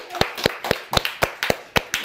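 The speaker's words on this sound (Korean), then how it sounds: "박수 한번 주시죠." A church congregation at a Bible overview service claps in a slow, steady rhythm, about nine sharp, evenly spaced claps ringing close and clear with nothing else over them.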